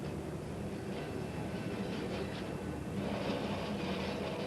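A 1931 ex-Leyton London tram, number 168, an English Electric bodied E3, gives off a steady rumbling roar with rail noise that holds throughout and swells slightly near the end, with no voices.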